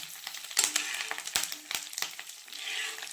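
Butter melting into ghee in a pan sizzles and crackles steadily, broken by several sharp scrapes and knocks of a stirring spoon against the pan, close and fairly loud.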